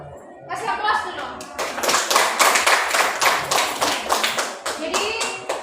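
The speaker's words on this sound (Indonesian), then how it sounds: "Kasih aplaus dulu." Classroom applause breaks out after a greeting, dense clapping from many hands up close, lasting several seconds with a little laughter mixed in.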